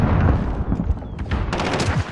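Desert Eagle pistol shots in Call of Duty: Modern Warfare, several sharp cracks close together over dense game noise, loud and near.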